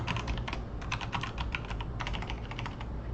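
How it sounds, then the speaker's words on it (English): Steady, rapid typing on a new computer keyboard, with close, continuous key clatter and no voices. "New keyboard means that I have trouble typing"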